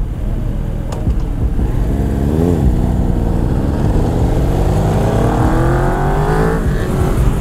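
An Aprilia four-cylinder superbike in city traffic revs loud and close, climbing through the gears in rising, whining sweeps over a constant rumble, with no talking.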